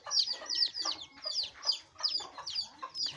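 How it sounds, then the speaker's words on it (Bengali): Native chicks with a new mother hen chirp in quick, high, repeated peeps at close range, a busy run of calls over soft low clucking. "বাচ্চাগুলো অনেক কিচিরমিচির করতেছে"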